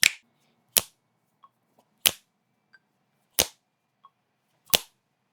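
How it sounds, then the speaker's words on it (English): Sharp hand claps or finger snaps are recorded one at a time for a beat, five crisp, evenly spaced hits about 1.3 seconds apart, each with a short room tail and faint ticks between them. "let's just start off by recording in a clap sound"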